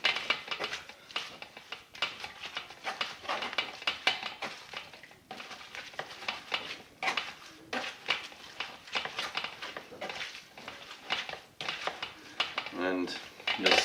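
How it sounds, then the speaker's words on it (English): Sea buckthorn berries and leaves crushed into a mash with a wooden spoon, giving close, repeated scraping, clinking and squishing strokes in an uneven rhythm, with a speaking voice over parts of it. "I just take a wooden spoon and I'm just going to crush this"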